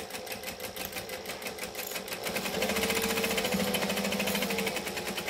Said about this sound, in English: You notice that my machine's a little bit quieter. That's from the oil that I put in it.